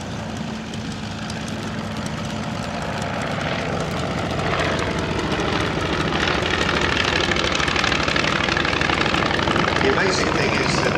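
A Polikarpov aircraft with a five-cylinder radial engine flies past at an evening airshow, its propeller drone building from steady to louder and nearer across the clip, with no talk over it.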